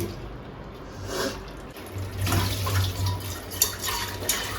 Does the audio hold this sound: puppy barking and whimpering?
no